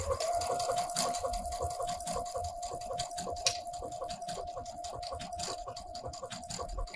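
A Luminaire sewing machine stitching an overcast or blind hem, a steady, close, continuous mechanical hum with a fast needle rhythm running throughout, no talking.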